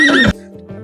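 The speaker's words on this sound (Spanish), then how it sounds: "Y el caballo marcó el ritmo con su trote y relinchó." A horse gives a brief, close, loud neigh with a high, wavering whinny that drops off, followed by lower snorting tones.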